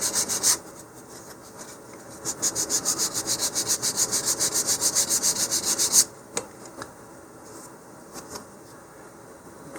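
Sanding a model rocket fin to taper its leading edge, a rapid run of rhythmic rasping back-and-forth strokes at close range, then a brief pause and a few scattered rubs.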